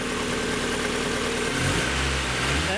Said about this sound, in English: Now, if I rev the motor a bit,